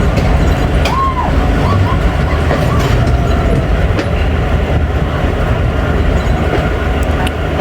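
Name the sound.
Awam Express train approaching the platform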